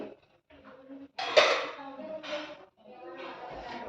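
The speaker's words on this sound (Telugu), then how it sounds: "డ్రై ఫ్రూట్స్ని కూడా వేసి ఒకసారి చక్కగా మిక్స్ చేసుకోవాలి." Fried dry fruits being stirred into undralla payasam in a pot: a metal spoon scrapes and clinks against the vessel in a few short, close bursts with pauses between strokes.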